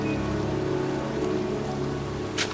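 Steady heavy rain pours down outdoors by a cemetery in the game Heavy Rain, a dense constant hiss of drops on surfaces, loud and close, with a brief sharper splash near the end and no talking.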